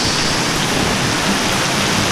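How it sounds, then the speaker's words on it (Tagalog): Heavy rain falls steadily on a campsite in Kuragari Valley, Japan, a dense, even hiss close by with no pauses. "medyo ano pa, malakas pa talaga yung ulan"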